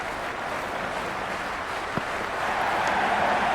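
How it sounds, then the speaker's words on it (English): A cricket stadium crowd at a Pakistan vs Bangladesh one-day match makes a broad, continuous roar that swells slightly near the end, with a single brief knock partway through. "this crowd is already making it hard for me to be heard"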